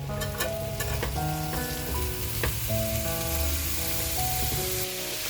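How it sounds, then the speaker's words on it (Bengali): Boiled banana stem and potato frying in a pan, a loud steady sizzle and crackle carrying on close up for several seconds with a few sharp pops, with no one speaking. "থোরটা দিয়ে ভালো করে ভাজা ভাজা করে নিয়েছি"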